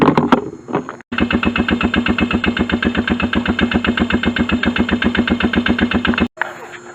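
A Polaris Trailblazer ATV engine cranks briefly, then fires up into a loud, steady, rapid chugging idle that runs for several seconds before cutting off.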